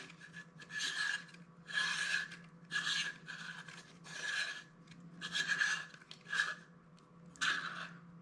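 Eagle Vision two-bar scope holder with a scope ring being screwed on by hand, giving about eight rhythmic rasping, scraping strokes in bursts, close and fairly quiet with no talk over them.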